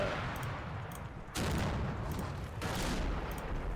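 Gunfire in the WWII strategy game Combat Mission Final Blitzkrieg, in a battle at Stavelot: a dense, distant-sounding crackle of rifle and machine-gun fire, with two louder bursts swelling partway through.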